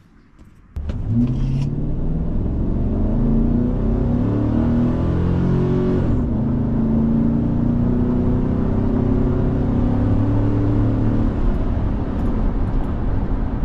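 Chevrolet Silverado engine with its stock air intake revving steadily for over ten seconds, a loud close whirring roar with rising and falling pitch after a brief clunk at the start, no talking.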